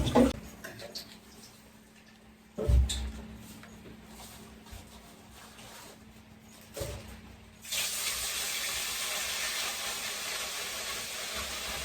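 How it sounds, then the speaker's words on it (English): Water runs into a sink while rice is washed for a Jamaican chicken, pumpkin and rice dish, with a few clattering knocks early on, then a steady, louder hiss of tap water over the last few seconds. "So you all wash your rice now."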